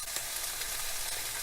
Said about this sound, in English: I've got some onions here, and I'm dry frying them.